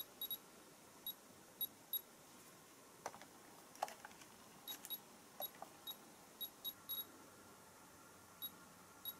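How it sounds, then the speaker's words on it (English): An Aranet radiation sensor emits short, sharp electronic beeps, scattered irregularly then coming more often, faint and close over a quiet background. "It's beeping."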